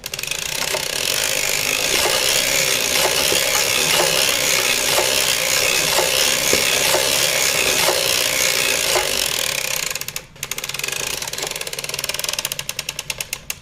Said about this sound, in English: Now you can hear that click, click, click sound, right?